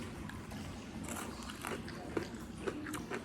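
Freeze-dried banana chips being chewed up close, with a few soft, crisp bites that stand out over steady low mouth noise.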